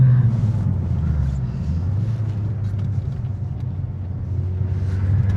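A Ford Focus ST engine pulls hard uphill in third gear, a loud, steady low rumble from inside the car that swells slightly toward the end, with no talking over it.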